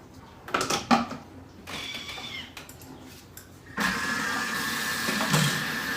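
A Thermomix whipping cream for a banoffee pie, with a few clattering knocks before the motor kicks in and runs as a steady, loud mechanical whir to the end.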